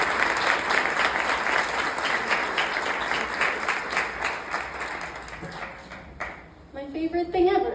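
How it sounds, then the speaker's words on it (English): Audience applause at a speaker brunch, a steady crowd clapping that tapers off toward the end, after which a voice begins talking. "If you want to give another round of applause for Paul."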